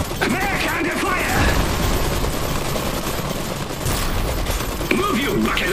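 Sustained machine-gun fusillade rattles against a mech in Iron Harvest, a dense loud stream of rapid impacts and mechanical clatter running throughout, with voices briefly heard amid the barrage.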